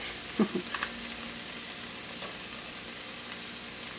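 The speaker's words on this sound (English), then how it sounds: "And we'll add the tomato paste." Tomato paste sizzling in a pan for chicken tikka masala, a soft steady fry with a couple of brief stir clatters early on, quiet and close, no talking.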